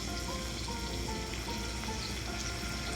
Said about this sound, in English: once your sauce comes to a boil, this is how it should look